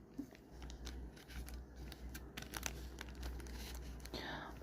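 Plastic crinkles and rustles close up in short bursts as a bag is squeezed through an inserted straw to push air out, with a faint breathy hiss of air.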